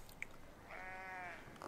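A single sheep bleat in the medieval building game Foundation, a clear wavering cry of about half a second, moderately near, over quiet ambience with a few soft clicks.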